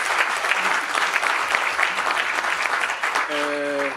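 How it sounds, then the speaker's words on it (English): Audience applause for panelists at a youth dialogue event on AI fills the room with steady, dense clapping, with a short tonal chime rising near the end. "Another round of applause, please, for our wonderful panelists"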